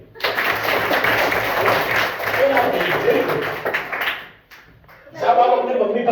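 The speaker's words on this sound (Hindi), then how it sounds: "ग्रेट, ताली।" Children clap together in a primary school classroom in a village, a loud burst of applause lasting several seconds, then a brief pause before another round starts; an adult voice speaks nearby.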